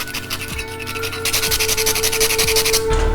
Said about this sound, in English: We are going to grate this dehydrated black lime right on top.